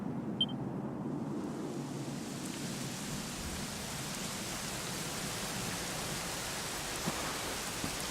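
Steady, dense rain in the video game Dragon Quest XI hisses evenly throughout, a continuous wash of falling drops with no voices or other distinct sounds.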